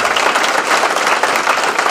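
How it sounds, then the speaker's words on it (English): Applause from a chamber of commerce dinner audience fills the room, loud and sustained with dense overlapping claps from a crowd throughout. "So I think that deserves a round of applause."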